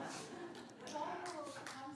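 A congregation claps at a Korean Presbyterian church Sunday service, a steady patter of hands under murmuring voices and a faint tonal background.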